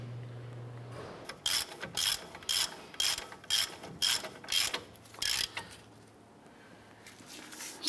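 A ratchet cranks caliper bracket bolts snug on a 2011-2018 Ram 1500's front brakes, about ten quick, evenly spaced clicking bursts close up after a brief low hum, then a quieter tail.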